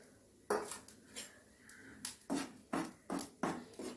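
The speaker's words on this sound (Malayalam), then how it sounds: "ആദ്യം നമുക്കിത് ചെറുതായിട്ടൊന്ന് വറുത്തെടുക്കാം. പാൻ ചൂടായി, അതിലേക്ക് നമുക്കിതൊന്ന് ഇട്ട് കൊടുക്കാം." Ragi flour being dry-roasted in a hot pan, with a spoon or spatula scraping the metal in a series of distinct strokes, close and clear with no talking.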